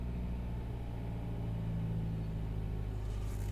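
A BMW engine held at a steady 2000 RPM drones evenly close by, a constant low rumble that barely changes, from a car whose diesel particulate filter keeps clogging.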